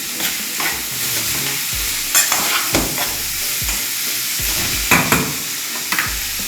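Vegetables for a vegetarian paella stirred in a sizzling pan, with a steady fry hiss broken by repeated scraping strokes of a utensil against the pan, close and fairly loud, with no talking.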